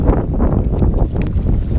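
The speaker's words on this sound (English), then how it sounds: "It's so crazy windy, and in this reservoir there's really no way to get out of the wind" Strong, steady wind roaring and buffeting the microphone outdoors on a reservoir, loud and continuous with no pauses, low rumble dominating throughout.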